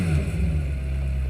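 A deep, throaty supercar engine rumble revs steadily at close range, rich low tones with a rough mechanical edge, no voices.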